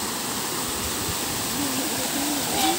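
Spring water pours into a wide, deep lake with a steady, close rushing hiss like a small waterfall, continuous and fairly loud, while a voice speaks faintly underneath.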